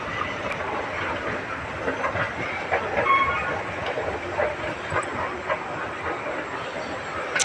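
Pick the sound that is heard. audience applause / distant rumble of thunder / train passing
train passing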